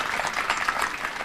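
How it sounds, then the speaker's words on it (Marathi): Brief burst of applause from a gathered crowd at a devotional kirtan celebration, dense steady clapping filling the short moment without speech. "एकदा नावाकरता टाळी वाजवा"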